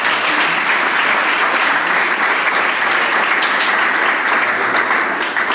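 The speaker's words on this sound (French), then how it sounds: "On vous applaudit." An audience applauds at a talk on school harassment, dense sustained clapping throughout, loud and close, with no speech over it.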